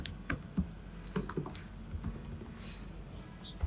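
Quick, light keystrokes on a computer keyboard as a domain name is typed, an irregular patter of soft clicks close by and fairly quiet, with no talking over it.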